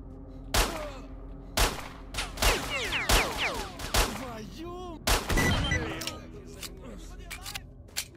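Gunfire in the shooter game S.T.A.L.K.E.R.: Shadow of Chernobyl: sharp single shots, loud and close, come at irregular intervals, with bullet whizzes and brief voices between them.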